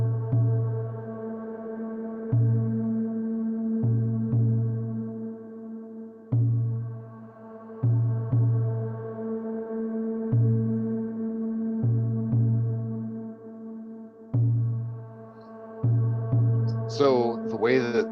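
A haunting synth choir drone built from MIDI, sustained and steady, paired with a basic Dene drum beat of low thumps in a repeating pattern, fairly quiet, with a brief bright flutter near the end.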